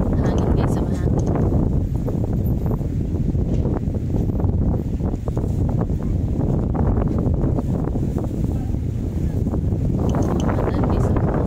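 Gusty wind buffets the microphone in a continuous low roar, with someone speaking intermittently over it.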